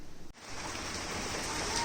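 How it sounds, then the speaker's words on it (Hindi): Heavy rain pours steadily outdoors, a dense, even hiss that holds at a constant level after a brief break near the start, with no voices over it. "अभी इस तरह से ये बारिश हो रही है, अभी भी काफ़ी तेज़ है बारिश"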